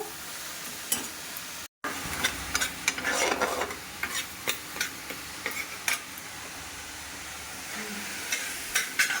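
A spoon scrapes and taps in a pan of vegetables frying with mung dal and green chilies, irregular clinks and stirring over a soft steady sizzle, no voices.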